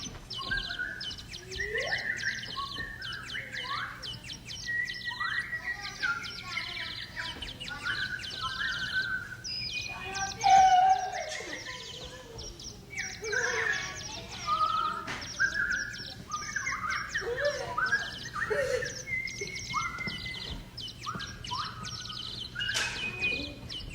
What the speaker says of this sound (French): Oh, un oiseau, j'adore les animaux.